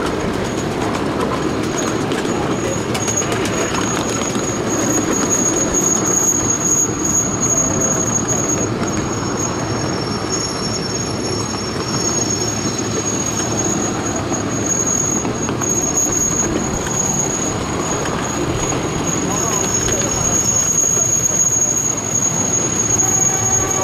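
Miniature train ride at Exporail, the Canadian Railway Museum, heard from on board: a steady rolling rumble with wheels squealing on the track and faint clicking joints, continuous and close throughout.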